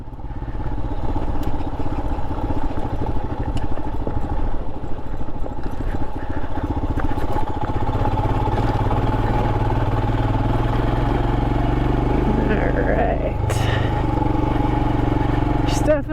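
A big dual-sport motorcycle, a Royal Enfield Himalayan or Kawasaki KLR 650, rides down rocky dirt washes with a steady, loud, close engine thrum and faint clatter of the terrain throughout.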